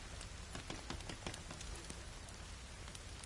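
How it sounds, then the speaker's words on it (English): Steady rain pours in a forest horror video game, a dense broadband hiss with scattered sharp drop taps, loud and continuous throughout, no voices. "Why is the rain so loud?"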